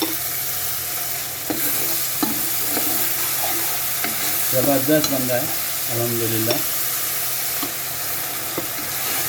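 Masala of tamarind, tomato and garlic frying in a pan while being stirred, tomato syrup added bit by bit; a steady soft sizzle with scraping spoon strokes and bubbling bursts, a voice speaking briefly.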